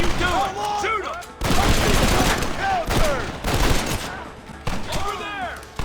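Rapid bursts of gunfire ring out in a Red Dead Redemption shootout, with repeated sharp cracks volleying close together while voices shout over the fight.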